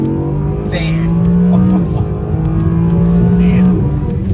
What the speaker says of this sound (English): I've got the paddle shifters on, and I get the revs up really high.